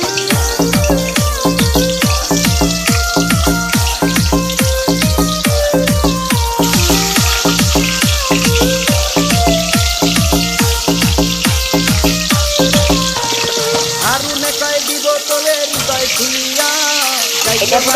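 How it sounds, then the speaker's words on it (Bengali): Potato pieces frying in hot oil in a kadai, a loud continuous crackling sizzle with rapid spattering close up, easing slightly toward the end. "যেহেতু মাংসতে আলু দিচ্ছি তাই আমি আলু ভেজে নিচ্ছি।"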